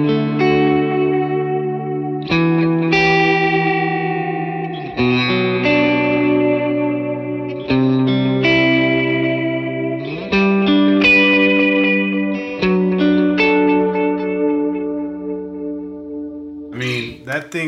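Electric guitar played through a Universal Audio Del-Verb pedal set for space-echo style tape delay, with a series of strummed chords ringing and trailing into repeats, loud and alone until a brief noise at the end.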